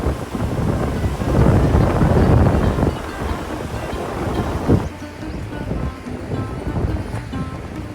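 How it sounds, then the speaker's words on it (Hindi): Flowing river water and wind at a footbridge on the trek to Everest Base Camp, a loud, constant rushing roar with gusty wind buffeting the microphone throughout. "बहता पानी और बहती हवा दोनों की आवाज़ सुनिए"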